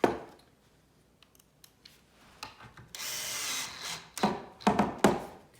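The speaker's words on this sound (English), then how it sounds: "you can use a screwdriver for this, but I'm using a drill" A power drill driving screws into a shoe bench whirs in short bursts, with a sustained high-pitched run in the middle and clicks and clatter of handling between.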